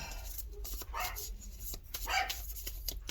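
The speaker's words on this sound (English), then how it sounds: "Probably barking at a squirrel or a cat." Several dogs barking outdoors in short repeated yaps and woofs, loud and fairly close, overlapping in quick bursts.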